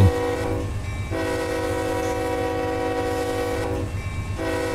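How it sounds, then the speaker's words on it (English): A heavy coal train's horn sounds at a crossing in the Run 8 Train Simulator game: loud sustained chord blasts, a short one and then a long one, over a constant low rumble of the train. "we can give it a little horn action here for our crossing."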